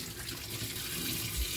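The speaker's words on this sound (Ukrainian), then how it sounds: "Все зливаємо, промиємо і помиємо кастрюлю, і знову зальємо водою чистою." Tap water runs steadily into a cooking pot as it is rinsed and washed out in a home kitchen while making kholodets, a continuous close splashing stream with no talk.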